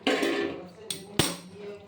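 A metal lid is lifted off a pan of chilli paneer, giving a couple of sharp metallic clanks over a soft kitchen background.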